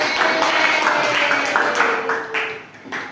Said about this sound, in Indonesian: Tepuk tangan dulu dong, Mas Bapak Ida.